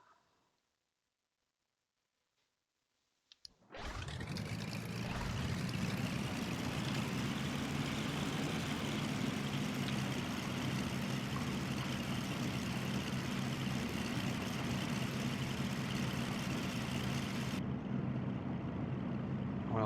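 Twin piston engines of a Cessna C310L in the X-Plane 11 simulator start after about three and a half seconds of near silence, then run as a steady, loud, low droning rumble that stays constant to the end with no talking.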